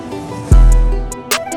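A long, loud transition sound effect: a deep, booming impact swells in and rumbles downward for most of a second, followed by a bright whoosh-like hit near the end.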